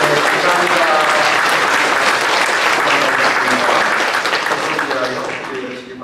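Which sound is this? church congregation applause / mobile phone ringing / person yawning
church congregation applause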